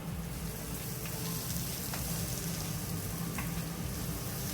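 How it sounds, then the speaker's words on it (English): A potato mixture is stirred in a pan over a constant low frying hiss, with a few faint scrapes of the spoon, close but quiet and with no voices. "Now you want to mix the mixture nicely."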